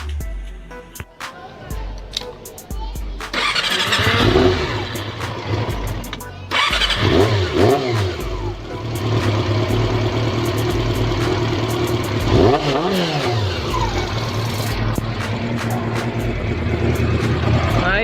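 A Honda CB400 motorcycle engine with a ticking fault near the headers starts up close by and runs at a steady idle, with several loud revving surges and sharp clicks. Voices talk over the engine at times.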